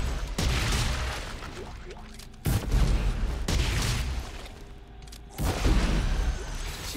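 Explosions and gunfire from the video game Dead Space 3 boom out in loud, broadband bursts at roughly three-second intervals, with a dense rumbling texture continuing between the blasts.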